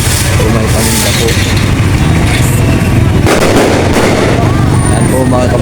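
Firecrackers burst beside a church in Santa Maria, Bulacan, on Valentine's Day, a loud continuous barrage of cracks and booms filling the whole stretch, with voices partly audible beneath the noise.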